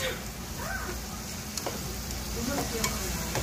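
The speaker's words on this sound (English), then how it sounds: "So I can mix my meats." Meats fry and sizzle in a pan while being stirred and mixed, making a dense steady crackle with scattered clicks and faint background voices.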